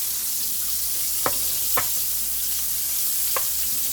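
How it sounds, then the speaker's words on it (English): Rice stirred into chicken sizzling in a skillet: a steady, loud hiss of frying throughout, broken by three quick scraping strokes of a utensil, close up and without talking. "I'm going to go ahead and put my rice in and just mix it."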